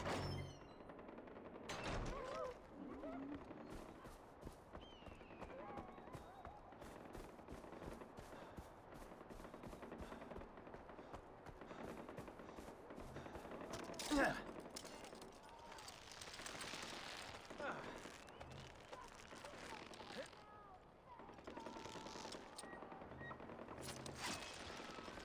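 Dense video game firefight with continuous gunfire, rapid bursts and scattered shots mixed with explosions and mechanical clatter, mid-distance and sustained throughout, with someone speaking over parts of it.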